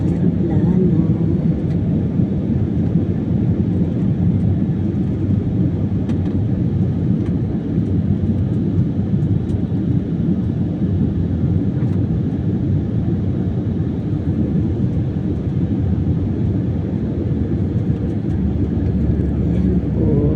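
Cabin of a passenger airplane as people get off after landing, a steady broadband rumble of engines and ventilation filling the space loudly and evenly throughout, with faint movement and murmuring beneath.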